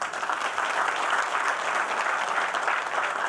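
An audience claps together in steady, dense applause throughout the short stretch, loud and continuous, with no voices standing out.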